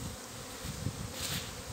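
Honey bees buzz close by around an empty hive box set among the colony, a steady, fairly soft hum with slight swells.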